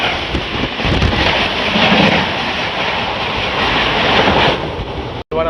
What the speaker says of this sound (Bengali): হাওড়া পুরী শতাব্দী সামনে থেকে ছুটে আসছে